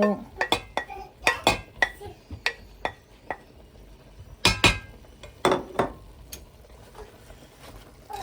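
Spoon scraping and clinking against a pan while duck bhoona is mixed, irregular sharp metallic knocks and stirring scrapes, fairly close, with quiet gaps between strokes.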